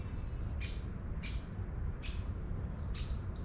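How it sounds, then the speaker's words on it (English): A woodpecker gives four sharp, evenly spaced squawking calls over a low outdoor rumble. "I can hear that woodpecker again."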